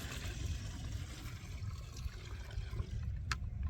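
Water splashes and trickles steadily as it is sprinkled by hand over a bed of red amaranth in a Bangladeshi home garden, a continuous close wash of sound with no talking.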